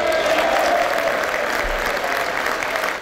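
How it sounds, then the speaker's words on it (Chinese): Sustained warm applause filling the US Congress chamber as Ukraine's president Zelensky enters, dense clapping from a large crowd heard steadily throughout without pause. "热烈掌声中，乌克兰总统泽伦斯基踏进美国国会"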